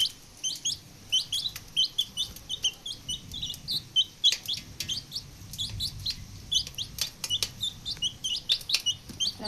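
Chickens feeding nearby, rapid high chirps and soft clucks repeating throughout with scattered pecking clicks, moderately quiet.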